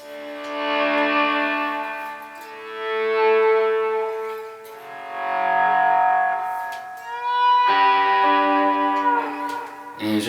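Electric guitar playing a lead line through distortion and echo effects. Sustained, bending notes ring out in loud phrases, with no voice over them.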